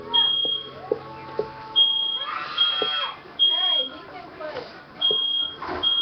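A sensitive household smoke detector sounds a series of sharp, high-pitched beeps repeating about every second and a half, loud and close, while people talk over it.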